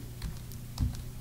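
Keys tap on a computer keyboard as a name is typed in, a handful of soft, close clicks over a low steady hum, with no voices.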